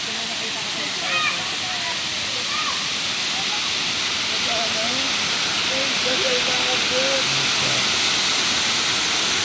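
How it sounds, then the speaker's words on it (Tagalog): A strong current of water rushes at a spring resort, making a loud, continuous roar of noise throughout, with faint voices talking underneath. "Lakas ng agos."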